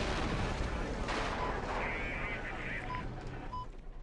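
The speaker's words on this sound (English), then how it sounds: "At intermittent intervals, they introduce explosions and gunfire." Simulated explosions and gunfire in a virtual reality therapy scenario, a dense continuous rumble of distant blasts and shots, moderately loud and filling the whole stretch without clear breaks.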